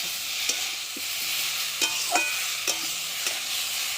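Spices frying with ginger paste for rohu fish curry, a steady sizzle under repeated metallic spoon scrapes and knocks against the pot, close by and without speech.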